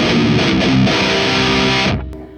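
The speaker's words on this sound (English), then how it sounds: "I very much like the distortion texture on this." An electric guitar played through a Synergy amp with heavy distortion, a thick sustained chord ringing loudly then cut off near the end, leaving a faint hum.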